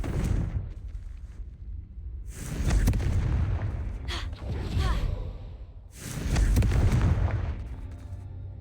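In a video game, the Confringo blasting spell sets off deep booming explosions, three heavy bursts with rumbling tails and whooshing debris, separated by quieter gaps.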